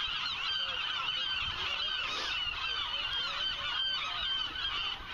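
A flock of West Coast gulls, including glaucous-winged gulls, calls continuously at a distance, overlapping honking cries layered over faint steady background noise.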